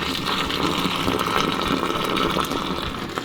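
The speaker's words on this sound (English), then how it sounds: "Boiling water. Into a rolling boil and right down the hole." Boiling water pours down a sink drain aboard a sailboat, a steady close gushing and gurgling stream that runs continuously without talk.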